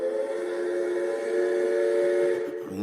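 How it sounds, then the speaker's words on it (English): A steady, loud whistle blowing from a train, held as a continuous harmonic tone that cuts off near the end with a drop-off. "listen to that whistle blow"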